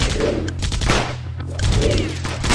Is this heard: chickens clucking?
no